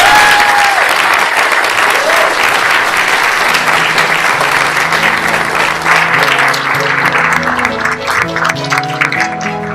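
A graduation audience at Springfield Commonwealth Academy breaks into loud, sustained applause and cheering that fills the room, with crowd voices mixed in and a brief whistle near the start.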